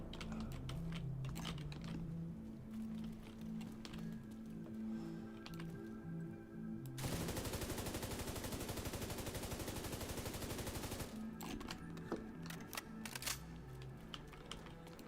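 An L86 light machine gun fires in The Division 2 on PC, a dense sustained burst of rapid shots lasting about four seconds in the middle, surrounded by quieter game sounds and keyboard clatter.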